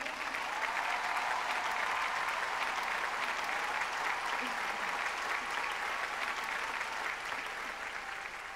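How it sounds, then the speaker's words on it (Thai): A hall crowd at an Amway diamond-level award ceremony in Thailand claps for the speaker's family, a continuous, even wash of many hands heard from a distance that carries on for over eight seconds without a break. "รับเสียงปรบมือจากคนในฮอลล์หน่อยครับผม"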